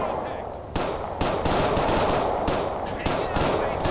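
Rapid automatic gunfire rattles through a shootout in the video game GTA IV, loud and continuous in dense bursts with brief gaps between volleys.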